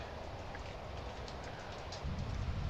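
Trains running in the rail-building video game Transport Fever, a steady low rumble of rolling stock that swells louder near the end, with no talk.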